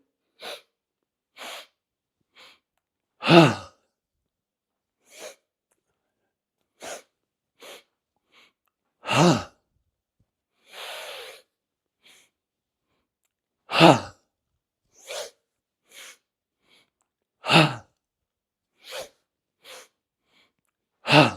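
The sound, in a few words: deep breathing in during a qigong exercise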